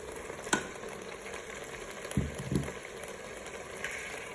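Bell peppers dropped into hot oil in a Cookeo pot, a soft continuous frying hiss with a few brief louder sizzles as pieces go in.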